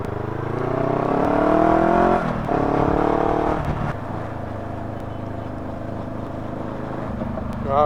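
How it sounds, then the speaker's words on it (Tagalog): Congested road traffic heard from a motorbike ride in Laguna: engines rev and whine with rising tones early on, then settle into a steady idling rumble of vehicles close by, with brief clunks along the way. "Grabe traffic, oh."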